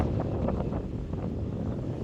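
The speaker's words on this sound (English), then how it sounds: "We're getting wind gusts over 20 miles an hour right now." Strong wind gusting over 20 miles an hour roars and buffets against the microphone in continuous gusts, a loud, rumbling rush with no voices.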